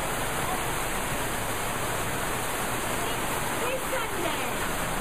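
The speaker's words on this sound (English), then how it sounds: "This is the rain you wanted." Steady, dense rain falling during a holiday in Cambodia, a continuous even hiss with no pauses or distinct drops.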